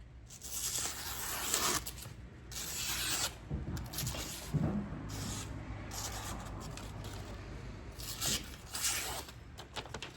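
A Buck knife is drawn in long rasping strokes across a coarse sharpening stone, close and fairly loud, each gritty pass separated by brief pauses.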